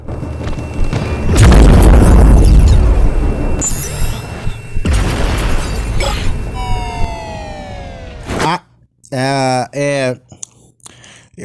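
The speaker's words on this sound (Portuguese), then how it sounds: "essa explosão é bem alta" A loud, deep explosion in the video game Super Dark Deception 2 booms and rumbles for several seconds, followed by crackling debris and a few short electronic tones.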